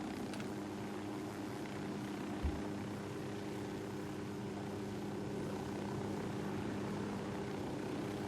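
A helicopter in the video game Ghost Recon Wildlands drones with a steady low rotor thrum and engine hum, continuous and fairly close, with one brief thump partway through.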